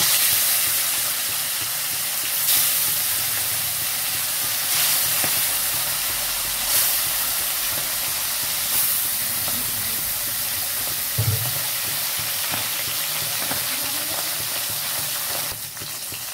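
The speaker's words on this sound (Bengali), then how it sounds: "এবার আমি এক এক করে মাছগুলো দেব।" Latha fish pieces frying in hot oil in a village kitchen give a continuous loud sizzle and hiss, with occasional brief crackles and spatters over the steady frying sound.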